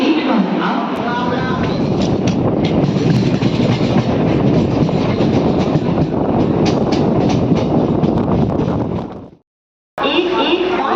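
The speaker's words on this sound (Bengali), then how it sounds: "3টের সময় আমাদের ট্রেন ছাড়লো" A Bandel local train runs loudly on its rails, with a continuous close rumble and rhythmic clickety-clack. The sound cuts out briefly near the end, then resumes.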